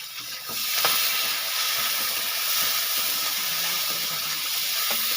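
Chopped onion and green chilli fry in hot oil in a pan, giving a continuous bright sizzle and hiss that holds steady for several seconds with no talking.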